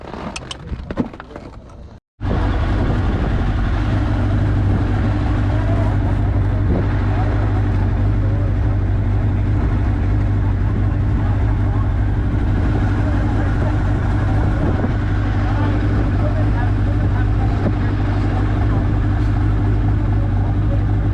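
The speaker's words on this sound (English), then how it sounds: "friend Chris here was very kindly offered to take me out in his Radical" A Radical track car with a Suzuki Hayabusa engine fires up after a brief scuffle and idles loud and close, a dense, steady engine drone that holds for the rest of the clip.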